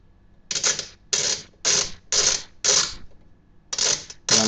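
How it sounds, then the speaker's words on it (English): A screw is driven into a home office computer case at an awkward angle, in six or seven sharp, evenly spaced clicking ratchets with short gaps, close and clear. "This is a very awkward angle to be putting a screw in."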